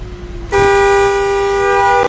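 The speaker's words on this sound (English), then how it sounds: "They couldn't have honked any faster." A car horn gives one loud, sustained blast of about a second and a half, close and alone, abruptly cut off at the end.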